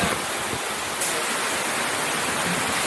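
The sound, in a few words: waterfall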